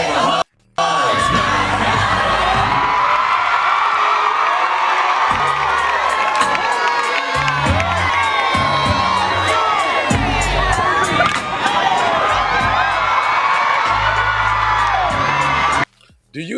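A large crowd cheers, whoops and yells loudly and without letup, with a brief drop near the start and another near the end.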